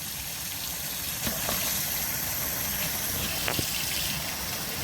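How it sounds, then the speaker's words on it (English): Water pours steadily into a big container of soy curls, a continuous gushing fill from a tap with no talk heard. "you're just going to fill it with water"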